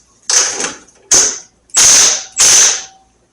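A wrench tightening a nut on a Harley-Davidson Road King headlight bezel gives four loud, close ratcheting bursts, each a short metallic buzz, separated by brief pauses.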